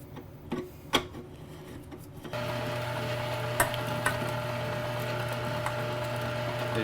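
A meat grinder fitted with a 4.5mm plate runs ground beef through a second time: a few metal clanks, then the motor starts into a steady, loud, droning hum that carries on to the end.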